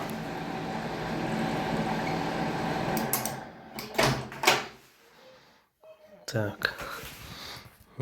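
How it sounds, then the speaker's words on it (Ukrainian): The door of a homemade scrap-metal microwave oven opened while it runs: a steady hum, then a cluster of close clicks, knocks and a latch clatter as the door is worked, with a short pause in between. "Пробуємо відкривати дверку."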